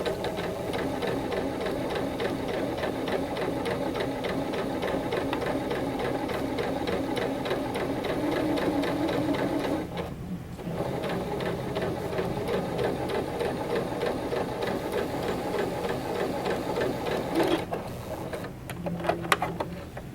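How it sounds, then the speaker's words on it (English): A sewing machine runs steadily, stitching rows of gathering stitches with a fast, even mechanical chatter, pausing briefly around the middle and again near the end. "you want to make sure you don't backstitch at the beginning or the end of the row of stitches."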